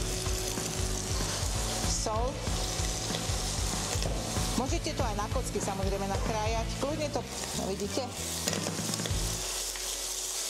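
Bacon sizzling and frying in a pan for a beef dish braised in red wine, a steady loud crackle with stirring and scraping under someone talking.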